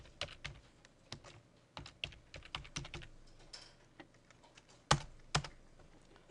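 Fingers typing text on a computer keyboard while working in AutoCAD, a close, quiet flurry of uneven key clicks with a couple of firmer, louder presses near the end.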